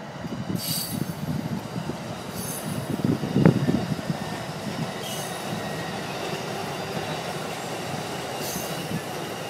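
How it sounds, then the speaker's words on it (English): A local commuter train rolls past with a steady, broad rumble and clatter, a brief metallic squeal rising midway, continuous throughout. "That's your local train."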